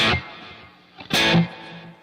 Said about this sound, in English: I'm going to turn on just a little bit of delay and reverb